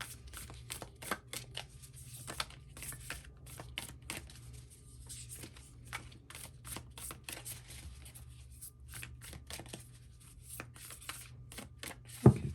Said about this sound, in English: But man, is it hard to shuffle.